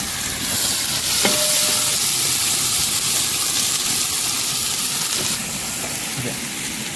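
Onions frying in a pan, a steady close hiss of sizzling that holds throughout and drops a little in level toward the end, with a few faint clinks.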